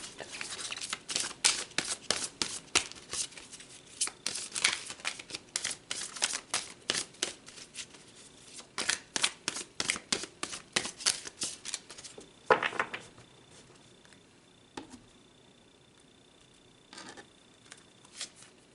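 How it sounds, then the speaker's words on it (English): A run of quick papery riffles and flicks of tarot cards being shuffled close by, coming in bursts with short pauses, then tapering off into softer handling. "If I can shuffle these cards, my goodness."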